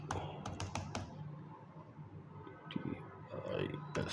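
Fingers typing a search query for an advertising agency on a computer keyboard, with short bursts of clicking keystrokes at the start and end of the clip over a steady room background.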